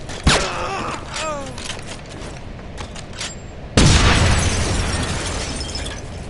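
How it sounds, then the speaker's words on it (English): Grenade explosion in the World War-era shooter game Wolfenstein 2: after scattered shots and clatter, a loud sudden boom erupts and rolls into a long rumbling, crackling tail, with game voices faintly present. "Grenade out!"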